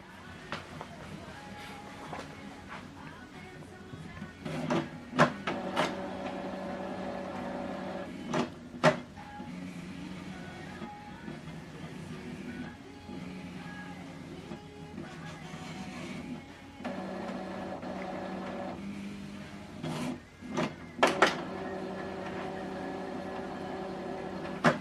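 An Epson XP-3205 inkjet printer whirs and clicks through a mechanical startup, motors running in bursts with short sharp clacks, fairly close and steady.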